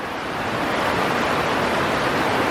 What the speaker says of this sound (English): Lots of rushing water.